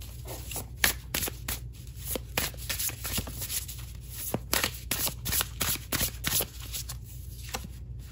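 A deck of tarot cards being shuffled up close, quick riffling bursts and flicks repeating in an uneven rhythm, crisp and clear with no talking.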